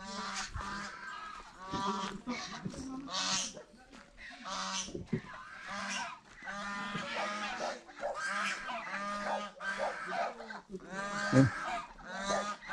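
A flock of ducks at a campsite in Pangasinan, Philippines honks and quacks repeatedly in irregular bursts, close and loud, with occasional voices mixed in.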